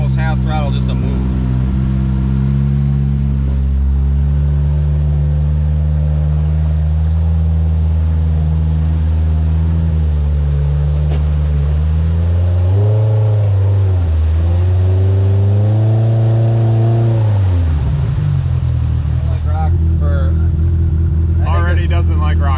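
A Polaris RZR Pro R side-by-side on 35-inch tires idles and revs on an East Coast trail, its engine rising and falling in pitch with throttle changes, loud and close throughout.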